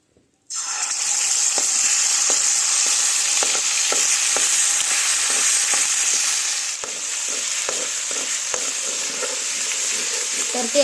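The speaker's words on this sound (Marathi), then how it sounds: "पाट्यावर वाटलेले मसाले टाकलेले आहेत ते चांगले परतू परतू घ्यायचे त्याला तेल सुटेपर्यंत" Stone-ground spice paste sizzles steadily in hot oil in a kadhai for a village stalk-vegetable dish, with intermittent stirring taps and scrapes of the spoon against the pan, close and continuous.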